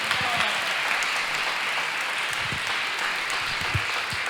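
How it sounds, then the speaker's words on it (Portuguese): A church congregation applauds in a steady, dense wash of clapping that carries on throughout, with a voice faintly heard underneath. "Aplauda ao Senhor em nome de Jesus."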